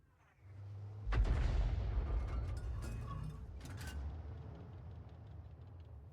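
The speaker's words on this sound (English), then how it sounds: "And the enemy Arty still firing and missing." Artillery firing in a World of Tanks-style tank game with a GW Panther, one heavy boom followed by a long rolling rumble that slowly fades, with faint mechanical clatter afterward.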